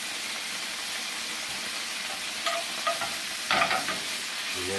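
A utensil stirs a reducing mixture of white wine and lime juice in a hot pan. A steady close sizzle and bubbling run throughout, with a few louder scraping strokes near the end and no talking.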